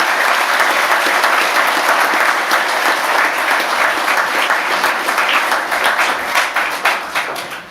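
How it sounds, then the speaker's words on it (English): An audience at a college senior prizegiving applauds loudly and continuously, a thick wall of clapping that thins and fades away over the final seconds. "Please join me one more time in applauding them."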